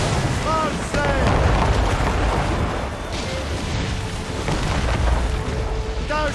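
Ship cannon fire in the Assassin's Creed Rogue video game, heavy booming blasts over rushing sea and wind noise, with shouted voices in between the shots.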